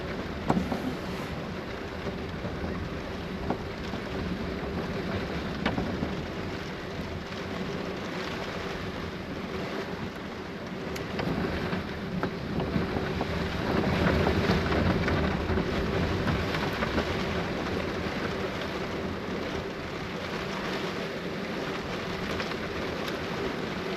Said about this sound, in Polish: ta plaża ma tą wadę właśnie, że mocno odsłonięta jest od wiatru tutaj